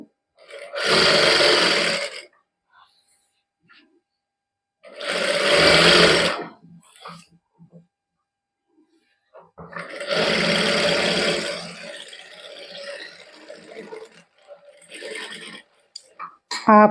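A sewing machine stitches palazzo pants in three loud bursts of whirring, each one to two seconds long, separated by quiet pauses, with brief soft speech between the runs.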